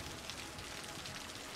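Steady rain pours in the Cities: Skylines city-building game, a dense, even hiss of drops with no pauses or other sounds standing out.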